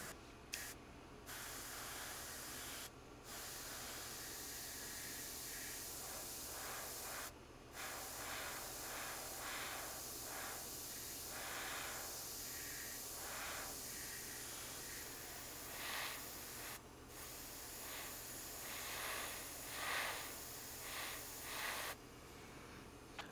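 An airbrush sprays thinned Azure paint onto a P-40F Warhawk scale model, a steady close hiss running in long bursts broken by several brief stops, with faint pulsing as the spray is worked across the surface.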